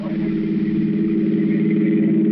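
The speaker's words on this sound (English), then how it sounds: "Here comes a car." A car engine in an old radio drama hums steadily as the vehicle drives by on a road near a bridge, a sustained, fairly loud mid-pitched drone that holds without pause.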